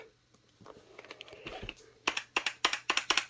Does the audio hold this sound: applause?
no